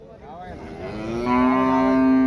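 A single cow moos at a Telangana cattle market, starting low and swelling into a loud, sustained bellow close by, with no talking.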